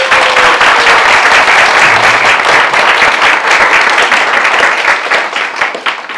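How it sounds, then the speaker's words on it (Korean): An audience at a lecture gives loud, enthusiastic applause, dense clapping that fills the space close up and fades slightly toward the end. "다시 한번 뜨거운 박수."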